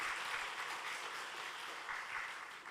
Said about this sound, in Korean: 우리 이분들 박수 한번 드리도록 합시다.